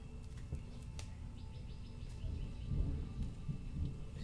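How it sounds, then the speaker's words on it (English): Thunder rolls low and steady as a storm moves in, the rumble swelling somewhat toward the end, with faint bird calls in the background and no talking. "Sorry if you hear the thunder."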